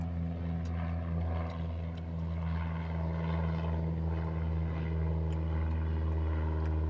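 A drone hovers close by outdoors on a farm, its motors giving a loud, steady buzzing drone with strong low harmonics that holds without break for the full seven seconds.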